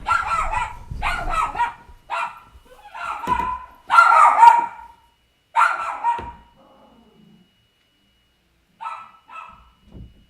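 A pet dog barks indoors in loud, close bursts, a run of rapid barks and yips with short pauses, then a quieter yelp after a gap.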